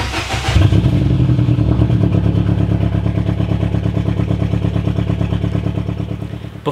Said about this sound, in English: you should be able to turn the car on and it should go for the first try